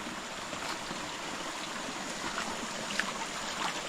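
A small stream of water trickles along a hillside path on the way to a waterfall, giving a steady, close, bubbling wash that runs evenly throughout without any talk.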